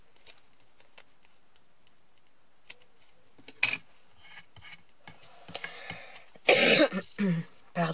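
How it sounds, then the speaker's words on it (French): A cough breaks out amid scraping and rubbing sounds, followed by a louder throaty burst near the end. "je tousse toujours"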